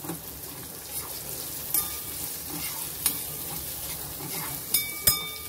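Chopped onion sizzles steadily in a hot pan for spring roll filling, with a few sharp clinks of a spatula stirring against the metal, no voices.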